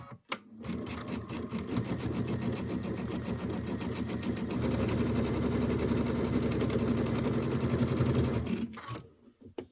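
An embroidery sewing machine stitches a Kimberbell Hello Sunshine traditional pieced quilt block. The needle chatters in a fast, steady rhythm that grows slightly louder midway, then stops abruptly near the end. Nobody speaks.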